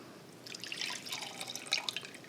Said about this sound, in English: So I'm going to pour it into the beaker